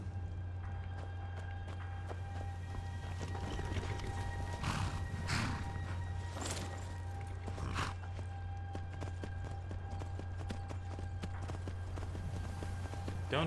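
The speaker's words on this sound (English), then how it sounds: "Don't mind me and my magical mountain climbing horse." A horse in Skyrim moves along a mountainside, its hoofbeats landing in short irregular clusters over a constant low drone with no talking.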